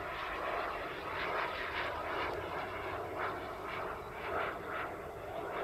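RC Tuono NRG sport jet flying overhead at under half throttle, a steady whooshing turbine roar, moderately distant, swelling slightly as it passes, with no talk.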